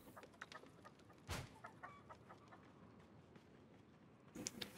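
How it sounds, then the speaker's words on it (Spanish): A chicken in Loot River gives a few soft, faint clucks amid quiet game ambience, with sharp louder hits breaking in briefly near the middle and at the end. "Voy a acariciar una gallina."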